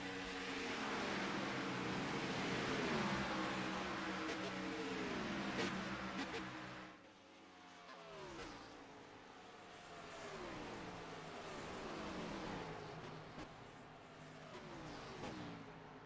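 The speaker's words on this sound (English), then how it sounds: "it kind of just sounds like the engine just hitting however many thousand revs" Race car engine in the iRacing video game at Pocono, screaming at high revs with harmonic sweeps rising and falling as it shifts and chirps, loud and steady throughout with a brief dip midway.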